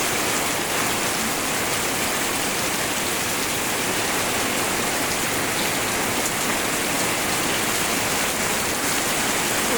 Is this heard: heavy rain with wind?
yes